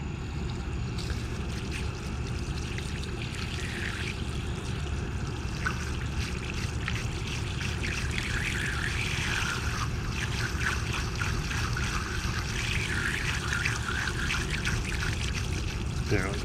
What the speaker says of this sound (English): I already have the hose running.